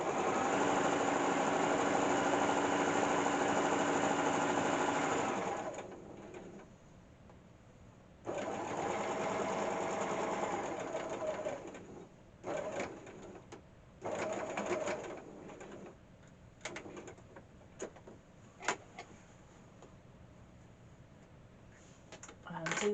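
A sewing machine stitches along a drawstring bag seam, following an existing quarter-inch line of stitching. It hums steadily at first, then runs in shorter bursts with pauses and small clicks between them.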